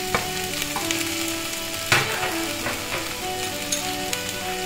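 Mixed vegetables, mushroom and paneer sautéing in a pan, a continuous close sizzle with a sharp utensil knock near the middle and light stirring, no speech.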